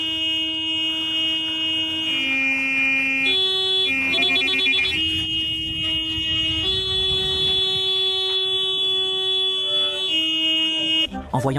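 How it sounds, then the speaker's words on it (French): A car horn in a comic film scene after a drunk-driving accident sounds in loud, sustained blaring tones that jump between pitches in a melodic sequence, with a muffled rumble beneath and an abrupt stop at the end. "le klaxon semblait provenir de sa bouche"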